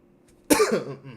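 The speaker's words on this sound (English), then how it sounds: "I'm getting a little cough" A single sharp cough, close and abrupt, with a short rough tail as it trails off.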